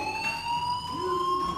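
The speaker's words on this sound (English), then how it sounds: "This fire alarm is exactly the same as the fire alarm" A fire alarm blares steadily in the video game Life is Strange, a continuous high electronic tone with layered pitches running without pause, loud and unbroken throughout.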